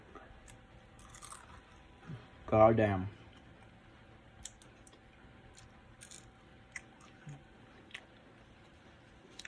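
Crunchy bite into fried food at home, a single loud crackling burst near the mouth lasting under a second, followed by quieter scattered ticks of chewing, with a voice speaking.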